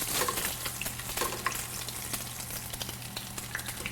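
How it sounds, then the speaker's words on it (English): An egg fries in hot grease in a breakfast pan while the fat is spooned over its top, giving a steady close crackle and sizzle with small pops throughout and no talking. "we're just going to kind of baste that hot grease on the top"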